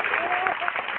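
Audience applause at a religious seminar gathering, a dense steady patter of clapping that fills the whole moment without pause.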